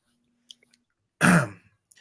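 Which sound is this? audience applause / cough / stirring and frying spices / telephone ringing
cough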